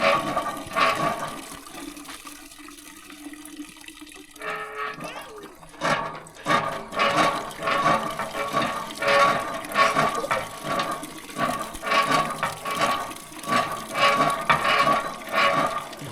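A motorized water pump runs in a rural Lao village, its churning, pulsing rhythm starting after a quiet stretch of faint background and then chugging steadily and fairly close with watery gurgles.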